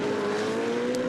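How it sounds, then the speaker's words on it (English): BMW race car entering the pit lane during a Blancpain Endurance Series race at Paul Ricard, its engine a steady, loud drone held at constant pitch with no talk over it. "BMW comes into the pits."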